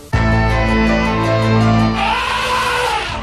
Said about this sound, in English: That is the sound of an elephant.